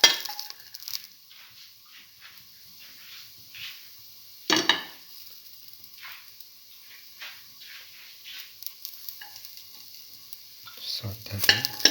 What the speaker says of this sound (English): Now put in the garlic,